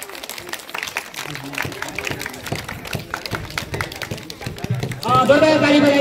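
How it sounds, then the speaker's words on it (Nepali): Applause from the audience at an honoring ceremony: a steady patter of many hands clapping throughout, with a voice coming in loudly over the clapping near the end. "जोरदार ताली बजाइदिनु होला म सम्मान गर्न चाहन्छु"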